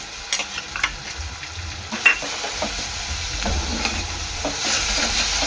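Ginger garlic paste sizzling in hot oil in a pan, a steady frying hiss with scattered spatula scrapes and small clatters, one sharper knock early on, close and fairly quiet with no talking.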